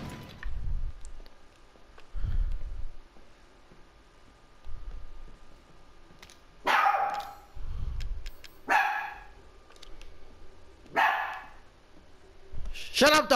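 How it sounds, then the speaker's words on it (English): A dog in the video game Resident Evil 7 barks in loud, separate bursts about every two seconds, with a few faint sounds in between. "Shut up, dog!"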